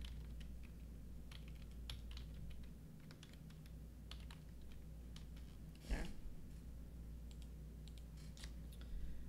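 Typing on a computer keyboard during a live stock day-trading session, a soft run of scattered key clicks over steady low room hum, with one sharper clack near the middle and no talking.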